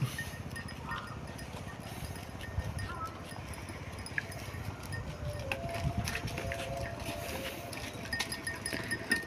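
A herd of goats walks together along a jungle path, producing a continuous, fairly close rustle of hooves and shuffling with scattered clip-clop steps and no talking.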